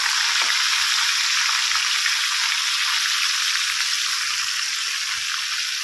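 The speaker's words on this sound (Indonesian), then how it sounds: "Kita goreng." Fish sizzles steadily in hot oil in a pan, a constant loud hiss of frying with no pauses and no talk, in an outdoor setting during heavy rain.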